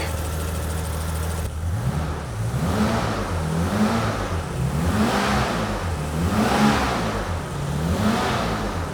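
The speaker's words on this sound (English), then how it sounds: "Definitely doesn't sound like a stock M70 engine. You can hear the headers." A BMW E31 850's V12 M70 engine revs repeatedly through aftermarket headers in steady rising-and-falling surges, a deep throaty exhaust note close by with no talking.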